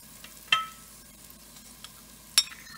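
Garlic-ginger paste frying in a pan, with a quiet steady sizzle broken by two sharp utensil scrapes or clinks and a few faint taps, heard close with no talking.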